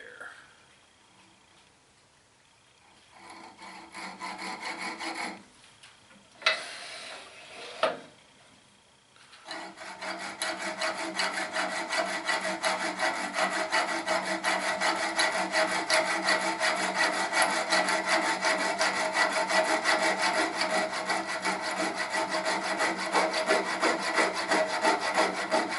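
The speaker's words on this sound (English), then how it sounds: "I'm using a jeweler's saw" A jeweler's saw cuts through a soft copper ferrule on a turned wooden bottle opener, starting with a few halting strokes and short pauses, then settling into a long, fast, steady rasping rhythm, close and loud, with no talking.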